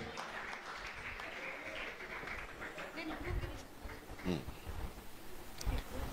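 An audience claps steadily at a prize distribution for an inter-church singing competition while people talk over it, the applause fairly faint and continuous throughout.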